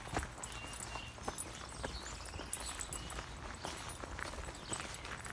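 Horses on a farm move about, their hooves clip-clopping in irregular steps at close range over a steady background of outdoor noise.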